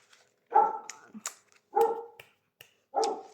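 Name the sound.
small dog barking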